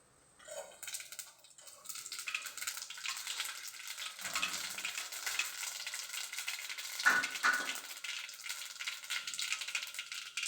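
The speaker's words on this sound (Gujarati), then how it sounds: "ચાર ટેબલ સ્પૂન તેલ મૂક્યું છે ગરમ થઈ ગયું છે એક ટીસ્પૂન રાઈ જીરું નાખશું" Mustard seeds and cumin crackle and sizzle in four tablespoons of hot oil, a steady bright frying hiss with a few sharper pops and spatters, close and alone with no talk.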